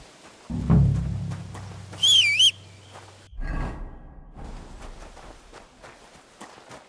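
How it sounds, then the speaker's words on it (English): A short wavering whistle sounds in the medieval game Kingdom Come Deliverance 2, a brief bright tune rising and falling for about half a second between footsteps and low rumbling game ambience. "What are you whistling for?"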